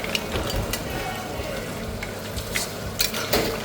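Prawns and mussels are stirred in a hot pan, with a constant sizzling hiss under intermittent scraping and clicking strokes of the utensil, close and moderately loud.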